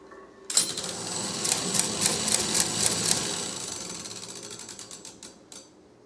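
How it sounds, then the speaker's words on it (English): A Caille Roulette coin-operated machine pays out through its vertical-lever coin slicer, giving a run of rapid mechanical clatters and ratcheting clicks with metallic coin jingles for about five seconds before fading out. "we'll go ahead and show a payoff with the vertical lever operating the coin slicer"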